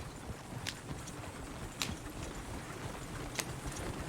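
Horses' hooves clip-clop at a walk in Red Dead Redemption 2, a soft, steady patter with a few sharper hoof strikes, set against a low outdoor rumble and no speech.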